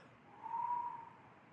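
A human voice imitates an owl with a single soft, sustained hooting tone that rises and fades over about a second, faint and alone.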